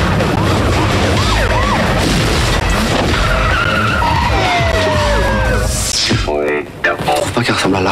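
Loud futuristic racing from the Wipeout video game, with whooshing engine tones, skidding and siren-like sweeps rushing past, mixed under a voice and ending in a sharp electronic burst.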